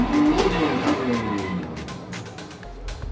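A simulated car in a Simagic driving simulator revs hard with the clutch dumped and spins through a donut drift, a loud continuous engine drone with tire-squeal-like tones rising and falling across the clip.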